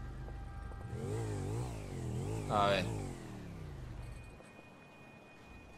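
A motorcycle engine in a video game revs up and down in several rising and falling surges, peaking loud near the middle before settling to a lower drone, with a brief voice heard.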